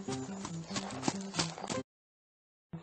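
A horse's hooves clip-clop at a steady trotting rhythm as a rider carrying a money-laden trunk rides off, loud and distinct for about two seconds before cutting abruptly to silence.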